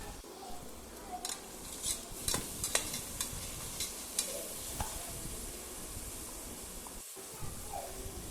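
A spoon scrapes and clinks in a pan while chopped tomatoes are stirred into ginger garlic paste for chicken biryani, with soft sizzling under irregular close metal taps.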